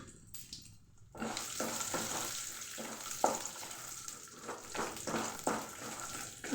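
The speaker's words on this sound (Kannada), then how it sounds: "ಉದ್ದಿನಬೇಳೆ ಸ್ವಲ್ಪ ಎಲ್ಲ ಹಿಂಗೆ ಸ್ವಲ್ಪ ಎಣ್ಣೆಲಿ ಕರ್ಕೊಬೇಕು" Urad dal, peanuts and dried Byadgi chillies fry in hot oil for pulihora: a steady close sizzle with repeated scraping stir strokes, which starts after a quiet first second.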